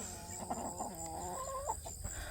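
Hens cluck and murmur nearby in a steady, chattering stream, with a faint background hiss.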